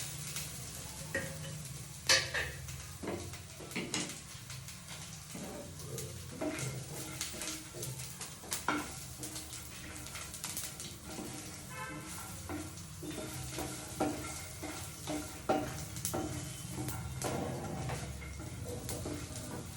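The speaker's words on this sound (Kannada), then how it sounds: "ಕಡಲೆ ಬೀಜ ಒಂಚೂರು ರೋಸ್ಟ್ ಆಗ್ತಿದ್ದಂಗೆ ಜೀರಾ ಮತ್ತು ಎಳ್ಳು ಹಾಕಿ ರೋಸ್ಟ್ ಮಾಡ್ಕೊಳ್ಳಿ" Peanuts roasting with cumin and sesame seeds in a pan, heard as a soft continuous sizzle broken by scattered clicks, scrapes and stirring taps of a spoon against the pan.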